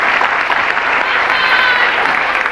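Steady, dense applause from a studio audience fills the whole stretch at an even loudness, with no speech above it.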